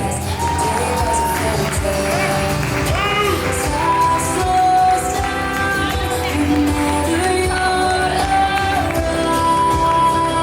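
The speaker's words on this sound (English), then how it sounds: "Next up, round of applause for Lisa and David." Cheering and whooping from a wedding reception crowd as a couple of the wedding party enters, a dense, loud and continuous crowd roar with music running beneath it.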